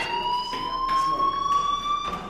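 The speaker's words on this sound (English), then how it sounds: "Hey, do you hear that fire alarm?" A fire alarm rings in the video game Life Is Strange, a loud, steady electronic tone pulsing in quick regular bursts, close and alone.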